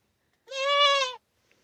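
A single goat at a goat refuge gives one clear, sustained bleat lasting under a second, close and loud, with silence around it.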